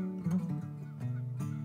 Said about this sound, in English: A Trumpeter swan actually is the largest waterfowl species in the world